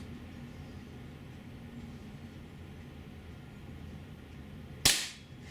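A single sharp, loud shot from a Beeman P1 .22 air pistol cracks out near the end after a stretch of quiet room hiss, decaying quickly.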